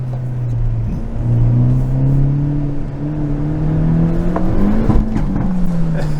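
A 2022 Hyundai Elantra N accelerating hard on an autocross course, its engine drone rising and falling steadily in first gear, loud and close with brief shifts in pitch.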